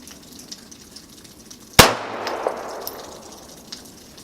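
A single sharp gunshot at an outdoor gun range, one loud crack with a ringing decay, otherwise quiet around it.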